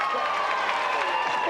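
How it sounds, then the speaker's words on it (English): A studio crowd cheers and applauds for hurdler Colin Jackson after his run on a games show, a dense, steady wash of clapping and shouts lasting a moment with a voice mixed in. "Round of applause for Colin."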